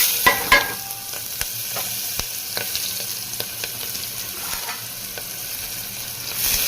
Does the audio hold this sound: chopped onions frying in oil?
yes